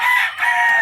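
A chicken calls once, a short loud close cluck-like cry lasting under a second.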